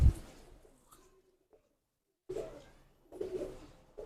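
A female pigeon coos in low, soft throaty bursts, two short murmuring calls close by, separated by near silence in a quiet setting.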